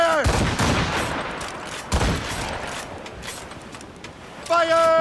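Ship cannons firing a broadside in Assassin's Creed Rogue, heavy booming blasts rolling into a long rumbling wash, a second blast around two seconds, then a voice-like tonal sound at the end.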